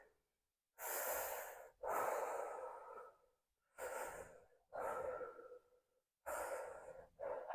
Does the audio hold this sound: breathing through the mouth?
yes